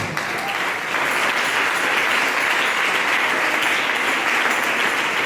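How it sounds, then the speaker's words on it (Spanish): Congregation giving loud applause to the Lord during a church teaching service, a dense, sustained roar of clapping that holds steady for several seconds. "¿Cuánto le dan un aplauso fuerte al Señor?"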